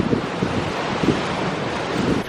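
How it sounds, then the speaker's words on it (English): Strong wind buffets the microphone in Positano, a steady loud roar of gusts with surf-like rushing noise throughout, no talking. "It is very windy here"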